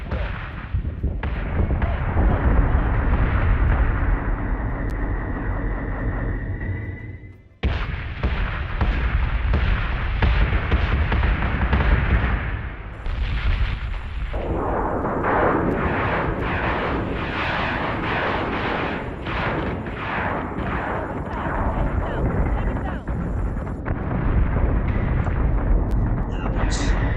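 Loud cannon and artillery-style weapons fire and explosion effects in an online game session, heavy continuous booms and bursts layered densely throughout with brief gaps, dominating the whole stretch.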